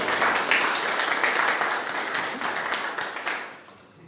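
An audience at an Urdu spring celebration in Vancouver applauds a poet invited to the stage, a dense burst of clapping that holds steady and then tapers off near the end.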